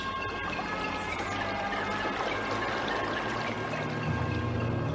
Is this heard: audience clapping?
no